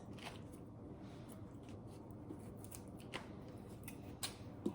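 Scissors snip through plant greens being trimmed for a Thanksgiving cornucopia arrangement, a faint series of soft, irregular clicks and cuts over a low background hum.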